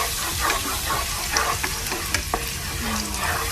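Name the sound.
sautéing and stirring flour in a pan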